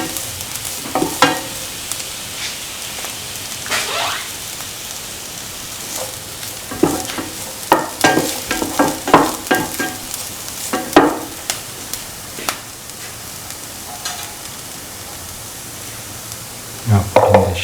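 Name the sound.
stirring and mixing lemon chickpea rice with salt in a pan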